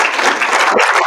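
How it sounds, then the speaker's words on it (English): Loud, dense audience applause at an academic music-technology conference session, many hands clapping together in a continuous, close roar that stays steady throughout. "Maybe one more round of applause."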